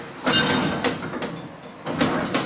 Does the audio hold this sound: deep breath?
no